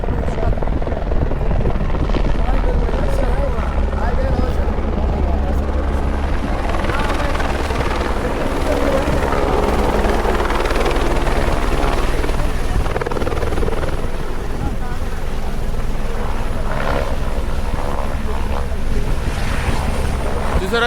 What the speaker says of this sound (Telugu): హెలికాప్టర్ వస్తుంది చూడండి, మీకు చూపిస్తాను ఇప్పుడు నేను. మొత్తం అంతా ల్యాండ్ అవుతుంది.